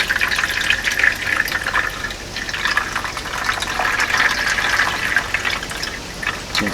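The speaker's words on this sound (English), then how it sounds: "pour this into the pot with our inorganic" Water is poured slowly and steadily into a plant pot filled with inorganic mineral potting mix for a bromeliad, giving a continuous close trickling splash that lasts throughout without breaks.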